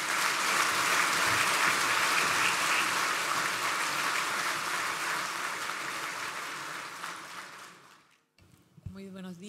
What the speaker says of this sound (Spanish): la recibimos con un gran aplauso